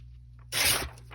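Music paper tears along a tearing ruler in one quick, close rip lasting under half a second, set against quiet room tone.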